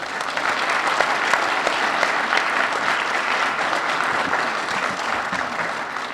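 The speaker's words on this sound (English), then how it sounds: "So please give a warm round of applause to the gentleman who made sure it all got done," A crowd gives sustained applause at a school district reading room dedication ceremony, loud and dense clapping from many people continuing evenly throughout without speech.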